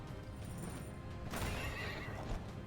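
A horse in the Child of Light video game gives a loud, shrill whinny that rises then trails off, set over a steady background wash.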